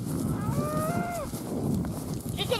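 A cow moos in a long, drawn-out call over steady farmyard background noise, close and clear, and ends with a short rustle near the end.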